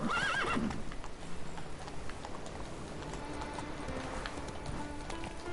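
Roach, a horse in The Witcher 3, neighs loudly at the start, then gallops on with a rapid, steady clip-clop of hooves close by.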